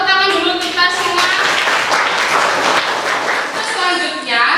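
Students in a classroom applaud together, a dense burst of clapping that carries on for several seconds while a teacher's voice speaks over the start and end.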